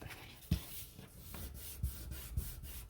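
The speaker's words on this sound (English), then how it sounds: "just burnish a little bit so those ends line up perfectly" A folded paper card pleat is burnished by hand for a Galaxy card kit: soft, close rubbing strokes with a few sharper scuffs, quiet and unvoiced.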